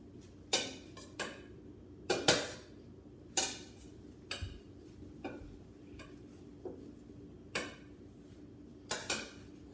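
Pasta being mixed with olive oil, heard as a series of sharp utensil clinks and scrapes against a bowl or pot, repeated irregularly and moderately close.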